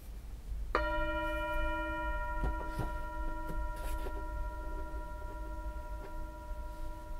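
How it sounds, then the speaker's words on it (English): A single bell struck once, its clear ringing tone sustaining and slowly fading over several seconds, with faint background noise and a few soft knocks. "I'm going to ring the bell and I'm going to ask you to listen carefully"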